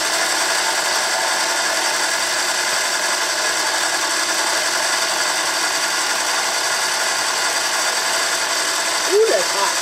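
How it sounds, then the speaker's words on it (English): A small buffer wheel on a lathe runs in a steady, loud whir as it polishes a metal rifle trigger guard for a .375 H&H Magnum build, continuous and close throughout, with a brief clunk near the end. "I can take that out on the lathe and my little buffer wheel."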